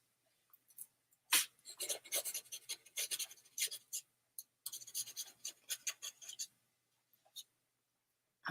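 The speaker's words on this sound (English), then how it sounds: "Let me write that down." Pen scratching on paper as a note is written by hand, irregular close bursts of rubbing strokes separated by short silences, quiet overall.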